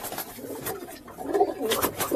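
Young pigeons in a loft give thin chirping squeaks, faint at first and then busier and louder toward the end.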